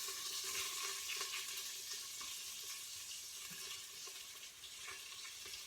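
Onion dropped into a hot pan while cooking rice vermicelli, giving a faint, steady sizzle and crackle with a few soft clinks, no talking.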